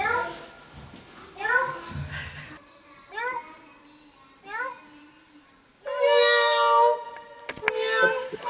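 A cat gives several separate rising meows with short pauses between them, close and clear, while children's voices chatter and babble around it.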